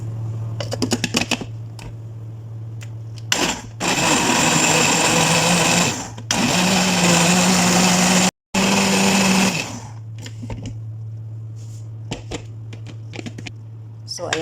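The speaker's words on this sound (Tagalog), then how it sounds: "Then isasalang lang natin siya sa blender." A loud blender motor whirs in several long bursts, blending milk with potato and banana, cutting off and restarting, with steady background hum and some clatter between runs.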